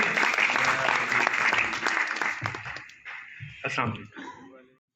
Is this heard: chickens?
no